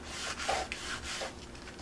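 A paper side flap with tear tape on a Halloween candy bar treat holder being rubbed down firmly by hand, giving a soft, continuous scuffing friction with a few brief swells, close and quiet with no talking.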